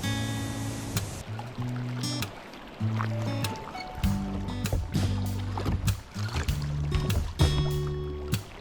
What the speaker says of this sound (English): In this ice floe, it's super noisy.